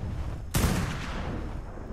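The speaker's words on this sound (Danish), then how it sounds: "Så vi rammer med nogle af skuddene, ikke?" A single sharp gunshot cracks in a video game, a sudden loud burst followed by a lingering rumbling decay, with no talking.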